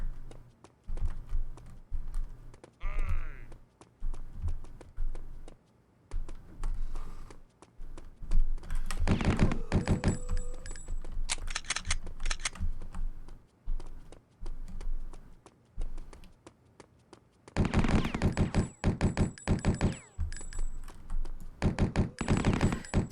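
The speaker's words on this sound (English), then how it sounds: "it sounds like a filtered drum sample for the gunfire" Gunfire in a Superman PS1 prototype video game, a filtered drum-like thumping that comes in dense rapid bursts, loud and punchy, separated by quieter stretches of game sound.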